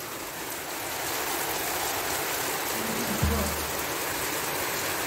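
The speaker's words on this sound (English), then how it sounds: "It's raining pretty hard." Heavy rain pours outside as a steady, dense hiss of falling water, with one soft thump partway through.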